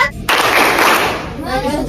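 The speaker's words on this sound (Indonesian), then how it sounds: "Oke, mulai tepuk hebat ya supaya kalian mulai fokus dan konsentrasi." A primary school class performs the 'tepuk hebat' clapping cheer: a loud, dense burst of many hands breaks in abruptly after a short pause and carries on as a close, sustained wash of claps, with children's voices mixed in.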